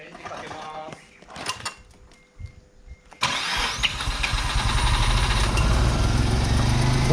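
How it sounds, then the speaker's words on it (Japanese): A Mazda RX-7 rotary engine with low compression cranks with a few sputtering turns, then catches and settles into a loud, rough, shaking idle up close, with people talking over the start. "ちょっとほらエンジンかけてみてはい エンジンかけます。"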